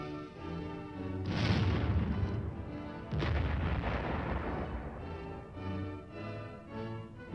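A tank's fast-firing 76mm gun fires twice, each a heavy booming blast followed by a rolling rumble, over a constant low engine drone with faint tonal hum in the background.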